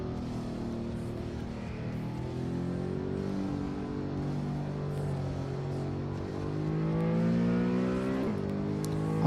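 Race car engine in the Assetto Corsa racing video game: a steady, droning engine note that climbs and shifts through revs continuously, moderately loud, with faint tyre and road noise.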